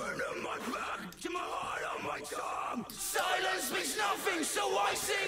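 A harsh, distorted metal vocal scream wails continuously over a loud, driving metal mix with drums and doubled vocals, getting louder and fuller toward the end.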